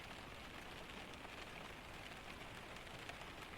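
Steady rain pours onto a cabin during a Scandinavian storm, a dense, even hiss of drops drumming on the roof and surfaces, continuous and close, with no voices.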